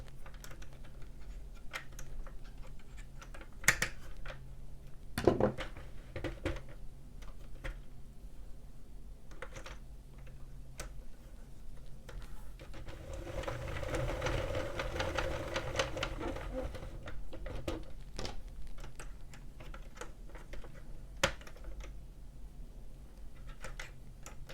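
A Sentro or Addi knitting machine cranked through a flat row, giving irregular mechanical clicks and clacks with a denser whirring, ratcheting stretch in the middle. There are a few louder knocks early on.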